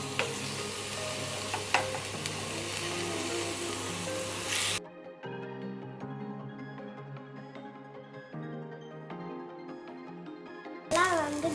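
Onions and drumstick leaves sauté in a pan for a ragi adai recipe, giving a steady sizzle that cuts to a quieter passage of music before a short burst of frying returns.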